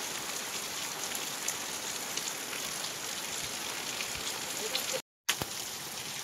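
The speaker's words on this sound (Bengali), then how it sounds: "দারুণ সুন্দর বৃষ্টি হচ্ছে আজকে মায়াপুরে।" Heavy rain falls in Mayapur, West Bengal, a steady, close hiss of water pouring on surfaces that stays even throughout, broken by a brief gap of silence near the end.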